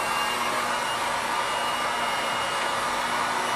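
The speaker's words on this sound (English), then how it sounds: "And you can take a heat gun." A heat gun blows a steady, loud, unbroken whoosh of hot air, warming acrylic repair filler in a constant roar from start to finish.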